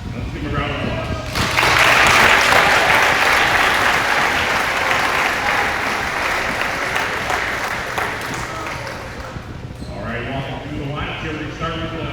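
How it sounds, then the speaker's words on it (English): An audience breaks into loud applause for grade 12 boys volleyball players at a provincial bronze medal game, swelling then fading over several seconds, with a voice over an announcement system at start and end. "Let's give them a round of applause."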